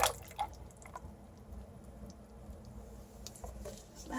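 Avocado pit soap batter is poured into a mold, giving faint, soft drips and patters close by with a few sharper splats, with no talking.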